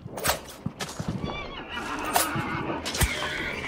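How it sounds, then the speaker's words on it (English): A horse neighs and whinnies in the game Hunt: Showdown, a shrill call rising over faint hoof clops and other in-game sounds, with a few sharp impacts scattered through. "Oh, there's a horse."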